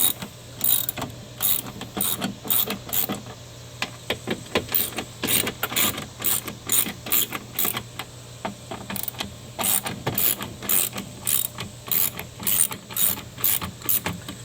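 A ratchet turns T40 Torx bolts loose inside the window area of a 1997–2002 Saturn SL2, giving steady rapid clicking bursts in repeated strokes, close and fairly loud, with no talking.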